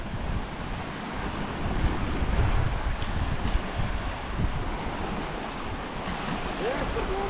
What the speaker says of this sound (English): It starts getting windy over here